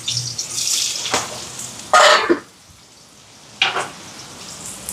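Sharp bursts of sizzling as onions and green chilies hit hot oil for tempering, loud and close, each burst fading into a quieter crackle between them.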